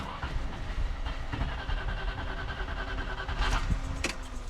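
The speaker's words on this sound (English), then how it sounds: "Now it should crank all day without starting." A Land Rover Discovery engine cranks continuously without firing after its fuel pump fuse was pulled, making a steady, loud, rhythmic mechanical churning with a few sharper clicks near the end.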